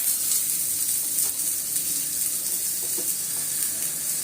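Poha thalipeeth sizzles on an oiled iron griddle, making a steady, close frying hiss that continues throughout with no talk.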